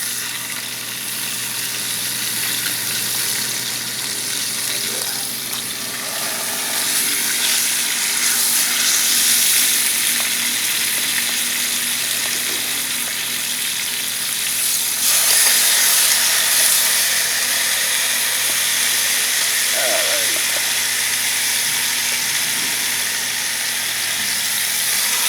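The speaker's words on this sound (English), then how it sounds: "I'm going to put the big pieces in first, get them frying first." Large seasoned chicken pieces frying in a Dutch oven, a steady bright sizzle and hiss running continuously with small crackles and a louder surge partway through, no talking.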